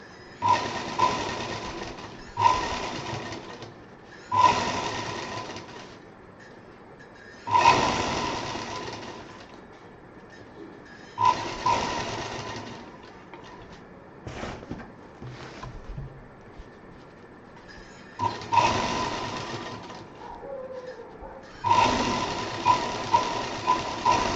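Sewing machine stitching a zip onto a travel bag, running in repeated bursts of rapid, steady whirring a few seconds long, separated by short pauses, close and clear with no talk.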